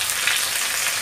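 Garlic and green chili paste frying in a pan, a loud, dense, continuous sizzle heard up close with no other sounds.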